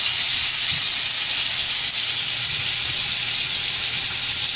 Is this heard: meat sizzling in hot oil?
yes